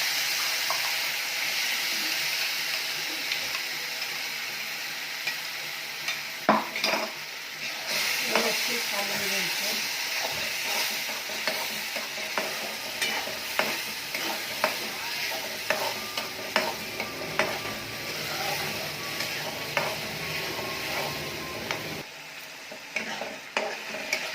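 A ground tomato, onion, garlic, ginger and coriander paste fries in hot oil for snail curry, with a steady sizzle and repeated scraping stirs of a spoon in the pan, plus brief bursts of running water.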